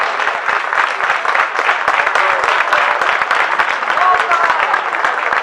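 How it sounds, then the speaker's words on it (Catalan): Strong, steady applause from a village crowd at a Carme altar festival, dense clapping that stays even and loud throughout with a hum of voices mixed in. "Un fort aplaudiment."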